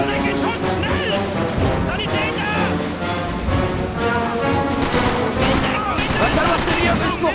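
Dense machine gun fire rattles continuously through a Call of Duty 3 battle scene, loud and sustained alongside other gunshots and explosions, with someone talking over the shooting.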